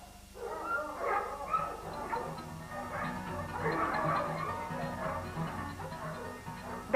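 A pit bull terrier gives a series of short, sharp barks and yips mixed with whimpering, close by and irregular in rhythm, with the bursts crowding together in the middle.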